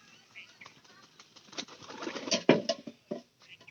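Pigeons coo softly at close range in short, throaty bursts, with a brief flutter of wings and a few louder calls in the middle.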